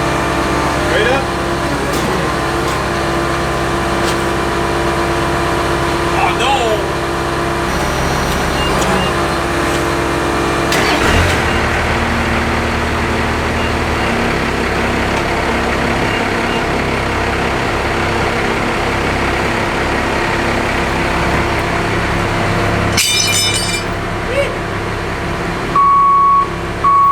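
A Chevy truck converted to a Cummins diesel, its bed removed during a rock crawler build, runs with a steady low engine drone for nearly half a minute while people talk over it and short beeps sound.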